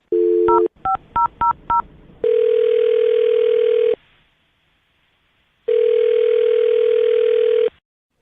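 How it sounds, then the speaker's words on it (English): A steady telephone dial tone, then a quick run of touch-tone beeps, followed by two long, loud ringback-style tones separated by a pause. "I'm going to dial his phone number right now."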